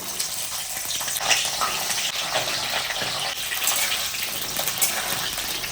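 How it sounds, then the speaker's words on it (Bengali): Continuous sizzling and crackling of cauliflower frying in hot onion-fried oil, steady and close, with faint stirring underneath. "এই পেঁয়াজ ভাজা তেলের মধ্যে আমি ফুলকপিগুলো ভেজে নিচ্ছি।"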